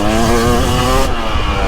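A 2023 Husqvarna TX300 Heritage Edition two-stroke dirt bike revs loud and close while riding through woods, a steady harmonic engine drone that shifts pitch partway through, with no talking.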